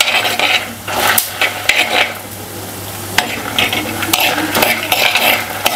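Coriander seeds dry roasting in a pan are stirred with a metal spoon in a village kitchen, giving loud repeated scrapes and clinks over a faint rattling hiss, no speech.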